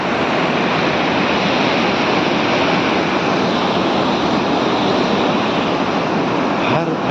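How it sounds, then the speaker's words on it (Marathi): Rushing water at Jog waterfall, a dense, steady roar that fills the whole clip, loud and close with no break or change in intensity. "पूर्ण पूल किती पाण्याचा प्रवाह तेज वाटत आहे"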